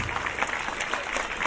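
A school judo demonstration in Puri district draws dense, continuous applause from an audience, steady clapping with no pauses throughout.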